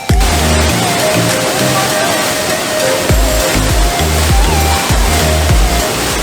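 Bishnudwar waterfall in the Shivapuri hills near Budhanilkantha, Kathmandu, roars with a loud, steady rush of falling water, close by, while low rhythmic thumps and a faint voice sit under the torrent.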